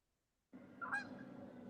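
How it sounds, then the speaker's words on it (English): Canada geese honk as they fly past, entering after a short silence with several overlapping calls that grow louder and nearer toward the end, with no one talking. "Can you hear the Canadian geese going by?"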